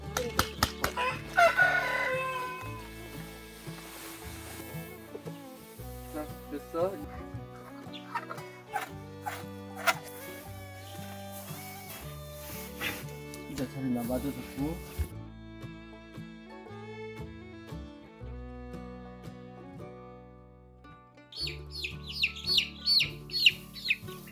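Chickens cluck and squawk near and far throughout around a chick coop, with intermittent voices talking over them and a burst of excited clucking near the end.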